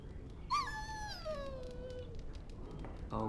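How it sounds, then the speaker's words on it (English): A dog in the game Dragon Age Origins lets out one long, high whimper that slides downward into a drawn-out whine, heard close and fairly quiet over low background noise. "Bloody dog."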